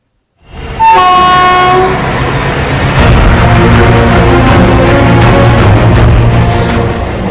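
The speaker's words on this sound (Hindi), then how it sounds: "रेलवे पटरियों पर तेज रफ्तार ट्रेन दौड़ी चली जा रही है।" A superfast train speeds along railway tracks near Danapur, loud and close, with a sustained horn blast at the start and then a steady, roaring rumble of wheels on rails.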